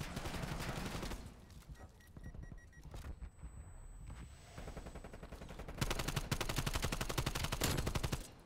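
Game gunfire heard alone in a competitive match, with the rifle shots fired through a wall. Bursts of rapid shots come first, then a quieter stretch with a few single cracks, then a dense, loud run of rapid fire near the end.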